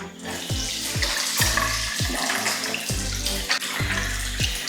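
Water runs and splashes steadily as a head is rinsed clean during washing, close and continuous with no voices.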